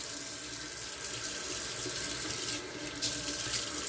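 A bathroom tap runs steadily into a sink while someone wets their face before a straight-razor shave, a constant moderately quiet hiss with a few splashy bursts near the end.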